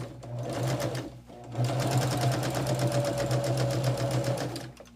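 A sewing machine stitches a quarter-inch seam on a quilt, its steady motor hum and rapid needle chatter running loud and close, with one short pause before resuming.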